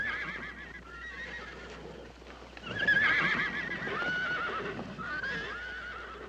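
White stallions in a big wartime roundup: several horses whinny and neigh over a steady patter of clip-clopping hooves, moderately distant and fairly soft.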